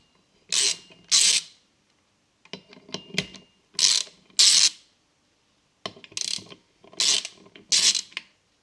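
A hand ratchet backs off the three nuts holding the floater straps of a McLeod RXT twin-disc clutch on a C7, heard as several short bursts of rapid metallic clicking separated by pauses, close and fairly loud.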